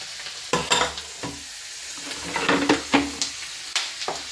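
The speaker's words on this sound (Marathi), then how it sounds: "अशी शेंगदाणे तळून निघते" Peanuts frying in hot oil in a home kitchen, a steady crackling sizzle broken by louder scraping stirs and clinks at irregular moments, close and with no talk.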